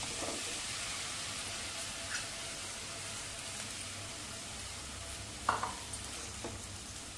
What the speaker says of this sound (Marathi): छान आपल्याला गुळ वितळवून घ्यायचा आहे।